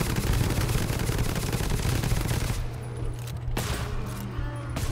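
Rapid bursts of gunfire from the co-op shooter GTFO rattle loud and dense for the first half, then drop to a lower rumble with a few sharper shots, no one talking.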